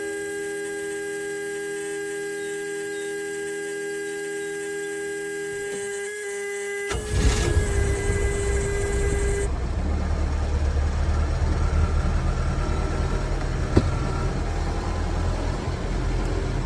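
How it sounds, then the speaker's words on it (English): A 1976 outboard boat motor cranks and catches, then settles into a steady low rumbling idle, close and fairly loud after a stretch of electronic hum, with no talking. "let's see how the old 1976 motor fires up for us here"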